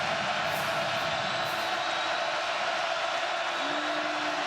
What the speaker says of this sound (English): Crowd revved up.